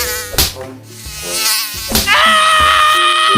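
A loud, close mosquito whine buzzes in and out, its high pitch shifting as it approaches, pauses, then hovers near the ear.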